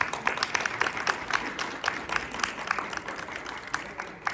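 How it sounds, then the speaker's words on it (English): Audience applause fills a conference hall at an MS awareness event, a steady dense clapping from a crowd of listeners, fairly close and sustained throughout without voices over it. "Can we give her another round of applause?"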